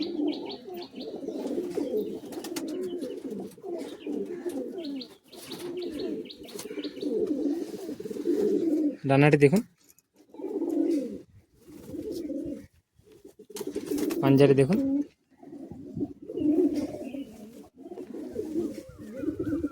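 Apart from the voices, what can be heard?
Madrasi high-flying pigeons cooing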